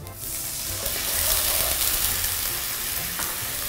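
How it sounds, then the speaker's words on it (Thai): Chicken stock poured into a hot frying pan over dried chillies already sautéed for a grilled chicken pasta sauce, producing a loud, steady, close-up sizzle and bubbling hiss that runs throughout with no talking. "ผมจะใส่น้ำสต๊อกลงไป"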